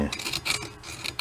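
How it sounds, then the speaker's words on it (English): Up close, a screwdriver scrapes the edge of a small engine piston in short, harsh rasping strokes. "Just scrape at it with a screwdriver,"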